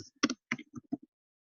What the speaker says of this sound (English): Why am I even typing?